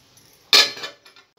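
A lid set down on a pan of mixed vegetable bhaji, one sharp close metallic clink with a brief ringing tail and a faint rattle after it, alone in a quiet kitchen.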